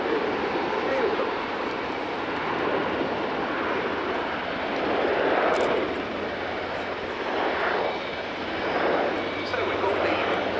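Luftwaffe Airbus A400M Atlas military transport aircraft in a flying display at RIAT, a loud continuous turboprop engine roar that swells and fades as it passes, with a commentator speaking over it.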